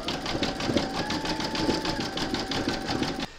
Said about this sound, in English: you're going to pop your hoop into your machine and stitch round number 9, and that's going to zigzag along here